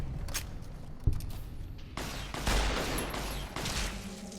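Gunfire in Fallout: New Vegas on Xbox, a burst of loud, close shots with a sharp crack near the start and heavier bursts following, dense and rapid like a volley.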